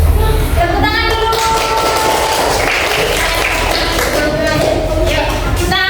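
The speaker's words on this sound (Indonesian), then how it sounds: "Tepuk tangan dulu." A classroom of young students claps loudly for a presenting group, a dense, sustained applause with children's voices calling out over it.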